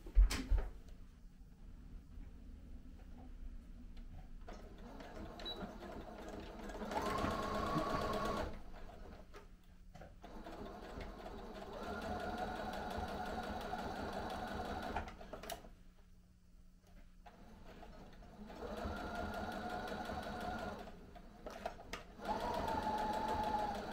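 Sewing machine stitching a seam on an 1898-style Victorian Eton jacket, running in steady whirring bursts with short pauses between them, quiet and close, with no talking.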